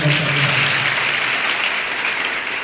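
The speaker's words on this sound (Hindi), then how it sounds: "एक बार पुनः जोरदार तालियां" Schoolgirls and school staff giving loud, sustained applause at a school HPV awareness programme, a dense wash of clapping that tapers slightly toward the end.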